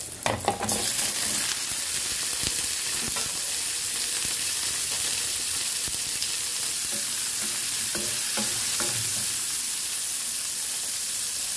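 Onion and garlic sauté in a pan with a dense, continuous sizzle, broken by occasional scrapes and clinks of a spatula as the mixture is stirred.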